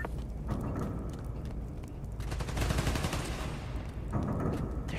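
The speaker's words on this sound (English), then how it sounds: "They're shooting transformers?" Rapid automatic gunfire from the Spider-Man: Miles Morales video game on PS5 rattles in dense bursts, swelling louder midway and again near the end, a continuous mechanical clatter with no voices.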